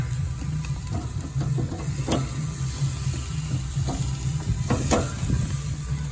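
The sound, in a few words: steaks sizzling as they cook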